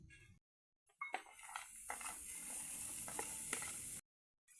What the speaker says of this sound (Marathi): पहिला आपण कांदा परतून घेणार आहे